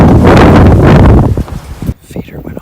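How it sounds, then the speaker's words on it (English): Strong wind gusts roar loudly into the microphone outdoors near a cabin in the morning, buffeting heavily for nearly two seconds before dropping off into quieter, uneven rustling. "This wind is terrible."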